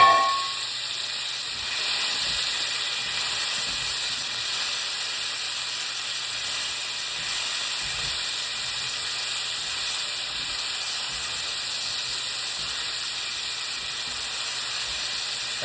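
Onion and minced garlic, four cloves, sizzling in a frying pan for lomo saltado, a steady loud hiss that holds constant for the whole stretch with no talk over it.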